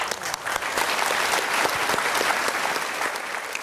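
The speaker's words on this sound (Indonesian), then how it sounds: "tepuk tangan untuk Pak Unsa." An indoor audience at a talk on forgiveness bursts into dense, steady clapping that holds for a few seconds before easing off slightly, loud and close with no voices over it.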